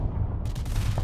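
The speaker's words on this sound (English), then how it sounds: "I outrange him with my cannons." Cannons firing in the Empire Building video game, a dense run of booming, rumbling shots layered over one another, loud and continuous for the whole moment.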